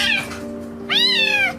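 A kitten stuck and tangled in barbed wire meows twice, a short cry followed by a longer, clear, plaintive meow, close and loud with no talk.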